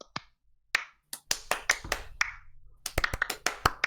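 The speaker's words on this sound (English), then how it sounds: "Clap, clap, clap." Hands clap close by in uneven, rhythmic bursts, sharp individual claps spaced irregularly then bunching into quicker runs.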